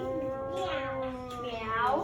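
A young voice drawls a long, wavering imitation of a cat's meow, rising and falling in pitch, close and fairly soft.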